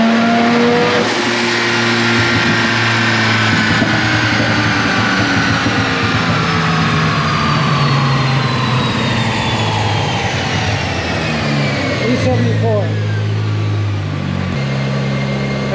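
Mazda RX7 FC3S rotary engine tuned on E85 during a dyno pull: a loud, sustained rev that climbs steadily in pitch, then drops off sharply near the end and settles into a lower hold.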